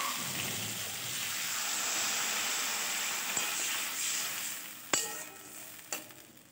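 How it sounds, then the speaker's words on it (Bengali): Frying potatoes in a pan sizzle steadily with a bright hiss. Water poured in near the end gives a couple of sharp spitting bursts before the sizzle settles. "আলুগুলো মোটামুটি ভাজা হয়ে গেছে। এবার এটাকে আমি জল দিয়ে দেবো।"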